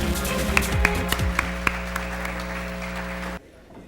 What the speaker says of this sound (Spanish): damas y caballeros, démosle un fuerte aplauso